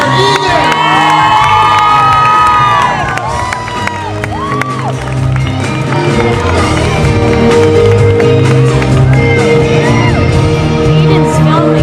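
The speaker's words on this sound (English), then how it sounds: "One more round of applause for All My Children stars" A large crowd cheers, whoops and shouts loudly for All My Children soap stars at Super Soap Weekend, Disney's Hollywood Studios, with high excited voices rising and falling over a continuous roar.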